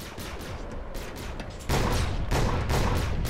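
Rapid gunfire from a gun in the video game Bedlam comes as a dense, loud burst of repeated shots that grows heavier partway through, with no voices over it.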